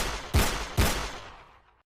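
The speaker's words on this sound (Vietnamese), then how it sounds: "Tiếng súng liên tiếp vang lên" Two sharp, loud gunshots ring out in quick succession in a drama scene, each with a booming low thump and a reverberant tail that fades away.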